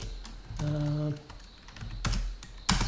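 Keys tapped on a computer keyboard while writing Java code for a Spring Boot file-upload method, a few quick clicks and bursts over a soft tonal hum, fairly close and moderate in level.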